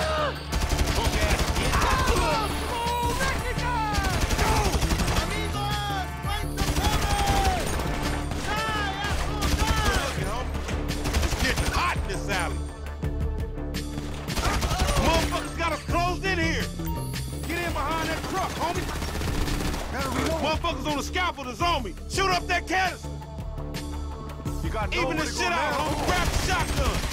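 Sustained gunfire from a GTA V gunfight keeps up for the whole stretch, dense and loud, with rapid bursts and repeated shots blended with game music and voices shouting over the action.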